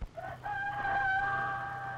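A rooster crows on a farm, a single drawn-out cock-a-doodle-doo that rises after a brief opening note and holds loud and close for almost two seconds over a low background hum.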